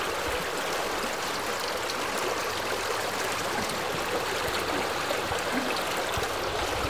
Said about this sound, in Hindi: जलप्रपात एठी कलकल नाद करी अविरत बोहि चलिछि।